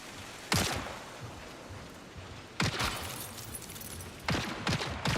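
Gunfire in the video game Marathon, three separate bursts of rapid shots spaced a couple of seconds apart over a steady background hum, fairly close and loud, with no talking.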